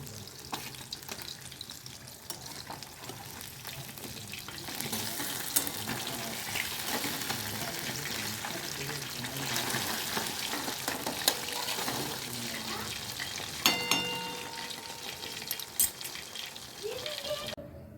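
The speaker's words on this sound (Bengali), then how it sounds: "আমার মাছটা ভাজা হয়ে গেছে" Fish frying in a pan of hot oil, a continuous crackling sizzle up close with scattered utensil scrapes and knocks, louder toward the end.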